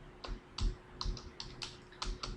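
Fingers typing Java code on a computer keyboard, a quick series of about ten close, crisp key clicks in uneven bursts over a couple of seconds, quiet and with no talking.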